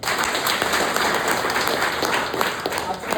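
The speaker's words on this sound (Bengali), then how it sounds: "আবার তালি হয়ে যায়" Attendees at an insurance sales training session clap in a moderate, fairly even burst of applause lasting about three seconds, mixed with some voices in the room.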